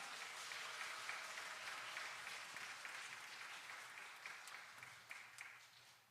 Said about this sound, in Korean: 주일날 박수 받기는 처음인 것 같아요.